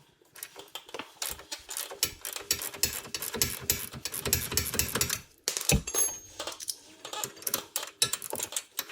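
An 18mm ratchet works loose a sway bar link bolt on a Jeep Gladiator during a lift kit install, giving rapid, close metallic clicking in repeated bursts with a brief pause midway.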